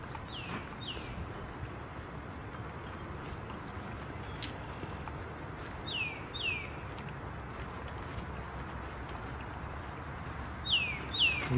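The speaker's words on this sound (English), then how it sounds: "I believe that's the cardinal we're hearing." A northern cardinal sings a few short, bright descending whistled notes in pairs, spaced out across a steady hiss of outdoor background noise, moderately distant.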